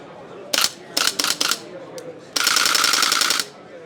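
An airsoft gun fires in a recoil demonstration: a few short separate bursts of rapid shots, then one longer sustained burst of about a second, loud and close with sharp mechanical clatter.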